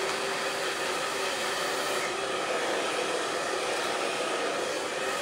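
A hair dryer blows loud and steady and close by while a section of hair is dried with a round brush, giving a continuous whooshing roar with no break.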